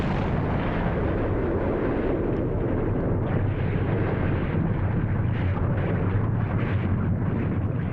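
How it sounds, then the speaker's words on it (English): Deep, continuous rumbling roar of a massive volcanic eruption explosion on an island, loud and sustained without break, with no voices over it. "An explosion so powerful that it blew a 32-square-mile wide crater out of the center of the island."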